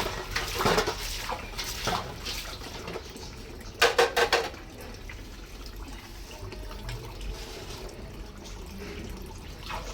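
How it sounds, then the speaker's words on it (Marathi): Dishes and pots are washed by hand at home with running water, splashing and trickling while metal vessels clink, including a short cluster of sharp clatters in the middle. "आणि पुन्हा भांडी धुणं करायचं."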